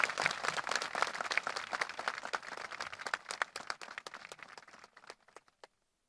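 A crowd at a political rally in Gujarat gives dense, loud applause that thins into a few scattered claps and then stops.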